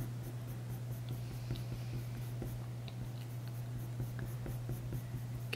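Graphite pencil drawing and shading on paper for a stag texture, a soft continuous scratching with small rhythmic strokes over a steady low hum, close and fairly quiet, no talking.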